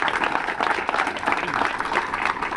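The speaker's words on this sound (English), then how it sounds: "Let's give them another round of applause for doing it." Steady, fairly faint applause from an audience at a community gathering marking a city tree-planting program, a dense wash of many hands clapping without pause.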